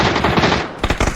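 Rapid automatic gunfire from a battle royale video game rattles in a dense burst, pausing briefly before another loud string of shots, close and dominant.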